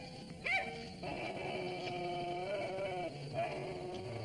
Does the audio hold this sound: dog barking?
yes